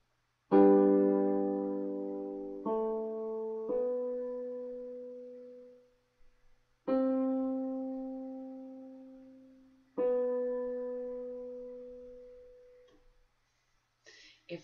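Low piano notes of the left-hand part of Minuet in G played alone, slow, sustained single notes and intervals ringing and decaying one after another, quiet and close.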